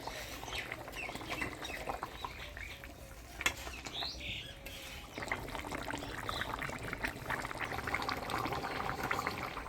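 Fried rita fish simmering in a gravy with green chillies, a soft bubbling and trickling hiss with occasional light clinks, fairly quiet and steady with no talk.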